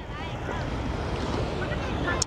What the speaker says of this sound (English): It's a bit too windy to lie on the sand